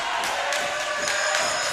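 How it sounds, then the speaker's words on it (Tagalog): A crowd of Rizal fans roars and cheers on its feet at a Junior MPBL youth basketball game against Quezon City, a loud sustained swell of voices filling the gym. "And the crowd of Rizal on its feet."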